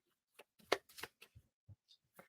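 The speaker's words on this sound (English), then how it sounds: "Do a quick little shuffle here." Cards for the Cartographers board game shuffled by hand in a quiet room, a quick series of close, crisp riffling flicks and taps.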